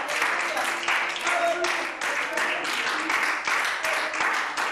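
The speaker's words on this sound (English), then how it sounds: "Clap your hands to God as you are seated at Iron Hill Pentecostal Church." Congregation at Iron Hill Pentecostal Church clapping hands during a revival service, a dense, steady patter of many hands filling the room, fairly close and continuous throughout.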